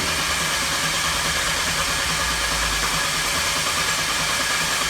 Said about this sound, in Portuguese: Está aí analisando mediante partida a compressão relativa do motor.